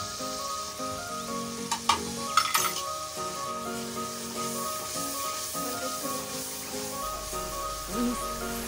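Ground coriander, red chilli, turmeric, garam masala, salt and black pepper sizzle and fry in a pan for daal keema, a steady close crackle with a few spoon clinks against the pan, with soft background music throughout.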